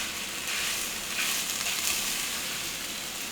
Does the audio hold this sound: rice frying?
yes